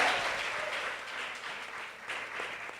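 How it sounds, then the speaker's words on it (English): An audience at a live women's panel event applauds Soledad O'Brien, CEO of Starfish Media Group, a soft, continuous patter of many hands heard from a distance, fairly quiet and steady. "Let's give a round of applause for Soledad."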